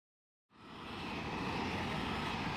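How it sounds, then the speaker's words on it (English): Airplane engine drone in a children's nursery-rhyme setting, a steady broadband roar that cuts in abruptly after a half-second of silence and holds loud and even to the end. "Green airplane. One, two, three green airplanes."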